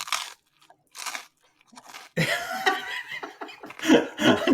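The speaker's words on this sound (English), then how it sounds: "I'm going to make crunchy noises then if we're not actually started yet." Pizza is crunched and chewed right at the microphone, first in short separate bites with pauses, then in a denser run of crisp crunching and chewing, with a brief laugh or cough mixed in.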